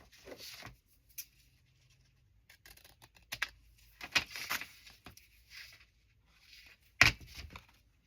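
Someone cuts off the bottom of a paper journal pocket. Sparse, crisp snips and rustles come at irregular intervals, close and quiet, with one sharper cut near the end.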